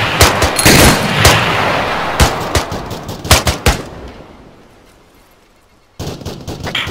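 Gunfire in the video game ArmA 3 during an Afghanistan co-op mission: loud bursts of automatic fire and single shots crack close by, fading to a quiet lull before another burst resumes.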